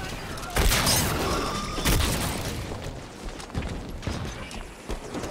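Grenades blast in a Halo 5 multiplayer match: two heavy, booming explosions land close together near the start, then smaller thuds and combat noise follow under a continuous roar of action, with voices faintly present.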